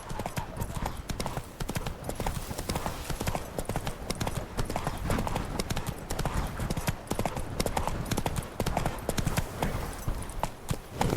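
Hooves of the horse Roach clip-clop steadily in The Witcher 3, a brisk rhythmic trot heard up close, with faint background game sounds underneath.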